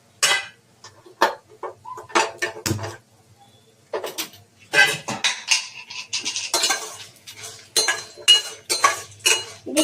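Dried red chillies being stirred in a pan while making curry leaf powder, with repeated clinks and scrapes of a metal spoon against the pan coming in irregular bursts up close.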